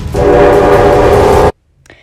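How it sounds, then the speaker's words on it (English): An animated train's horn blasts loud and sustained over rumbling wheels as the train approaches, then cuts off abruptly into near silence. "There's gotta be another way to stop this train."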